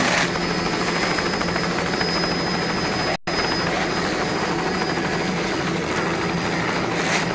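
A Fountain racing powerboat in the Super V class at a Corpus Christi offshore race thunders past, a loud, dense, continuous engine roar that fills the whole clip.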